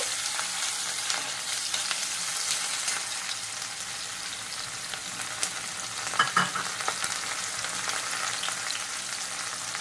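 Chopped onion sizzles and fries steadily in oil with cumin seeds and asafoetida for a bottle gourd kofta curry, a continuous close crackle with a brief louder stir or clatter partway through.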